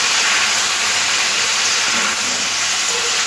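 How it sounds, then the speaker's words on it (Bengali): Water poured into a pan of pumpkin, potato and drumstick curry with turmeric and chilli powder, giving a loud, steady steamy hiss and sizzle that runs the whole time with no voices. "এবার একটু জল দিয়ে ভালো করে সবজির সাথে মশলাটা কষে নেব।"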